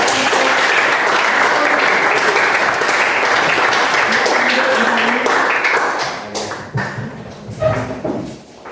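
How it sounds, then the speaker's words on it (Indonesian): A classroom audience applauds a group presentation with a dense burst of clapping that holds steady, then thins into scattered claps and fades toward the end, with voices mixed in. "Mari berikan aplaus untuk"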